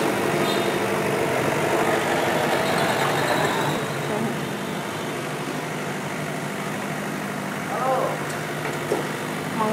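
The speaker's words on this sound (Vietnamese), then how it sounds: "Máy chạy rất là êm này, giòn nhá." A Kubota GT3 tractor engine runs steadily and smoothly at close range, a continuous even rumble with a voice speaking briefly over it.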